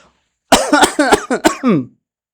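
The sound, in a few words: cough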